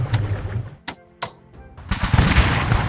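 Gunboat and artillery fire in a strategy video game, a loud rattling burst followed by two sharp isolated cracks and then another dense crackling volley.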